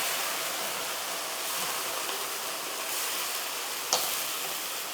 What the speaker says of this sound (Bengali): এখন এই মাংসটাকে আমরা এই তেলের মধ্যে দিয়ে দিই।